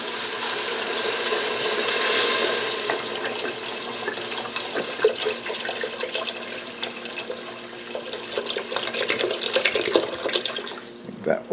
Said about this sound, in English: Add some water here.